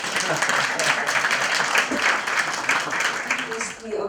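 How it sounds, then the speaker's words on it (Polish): Audience applause at an indoor talk in Tomaszów on the history of a family, a steady dense clapping that fills the whole stretch at moderate loudness, fading slightly near the end. "Czy mogę prosić o brawa dla teraz tych dwóch dyrektorów?"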